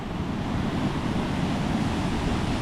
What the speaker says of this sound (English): Now normally there's about an inch of water coming over the top of this waterfall. As you can see, it's a raging torrent.